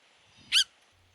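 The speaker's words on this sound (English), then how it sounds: "There are other calls made by this perky little bird that has a nasal or mechanical sound to them." A tufted titmouse gives a single short nasal, mechanical call note, close and clear against a quiet background.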